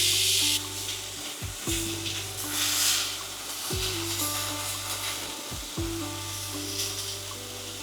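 Eggplant pieces, rubbed with salt and turmeric, sizzle steadily in a little oil in a pan, a close, continuous hiss broken by several low knocks and scrapes of stirring, with no one talking.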